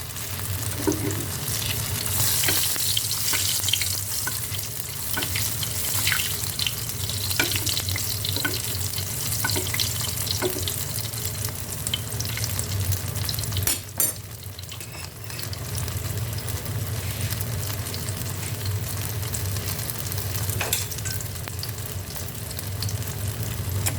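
Prawn and mashed potato burgers fry in very hot oil, a dense continuous sizzle and crackle close by, with occasional faint clicks and scrapes throughout and no talking.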